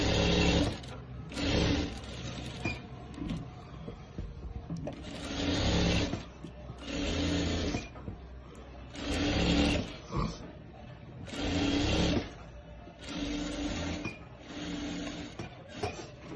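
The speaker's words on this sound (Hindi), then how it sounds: "इस प्रकार से हमने ये सिलाई दे दी है और फिर हम इसको यहाँ से वापस चालू करेंगे।" A sewing machine stitches along a fabric lining in repeated loud bursts of rapid whirring, each lasting about a second, separated by brief pauses.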